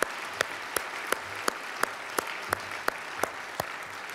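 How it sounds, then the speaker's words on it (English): An audience at a university event claps for a historic accomplishment, a loud, dense wash of applause with a few sharp, regular claps standing out near the front, and no talk. "one more round of applause for this historic accomplishment"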